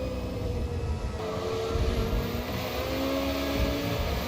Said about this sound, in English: Lapping GT cars here now on the back straight, Orban straight.